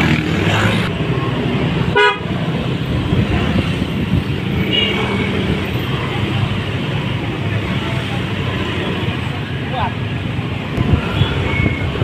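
A roadside traffic jam on a new ring road in Tasikmalaya, with a steady drone of engines and several car horns tooting at a distance, loud throughout with faint voices in the mix.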